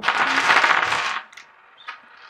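A handful of dice thrown in a board game: a loud burst of clattering and rattling for just over a second, then a few faint scattered clicks as the dice settle.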